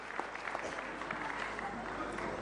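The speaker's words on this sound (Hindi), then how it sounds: "जरा जोरदार तालियां" Faint, distant applause from a crowd at a religious gathering for World Vegetarian Awareness Day in Delhi, a soft continuous patter of clapping with some voices mixed in.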